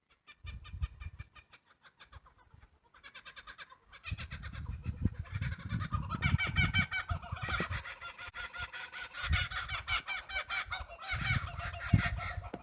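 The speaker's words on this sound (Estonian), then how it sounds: "kõige lahedamaks linnuks on siin Austraalias kokapurra, kes siis teeb sellist ahvi häält" A kookaburra in Australia gives its raucous, monkey-like laughing call, starting with scattered chuckles and building into a loud, sustained cackling chorus of rapid repeated notes.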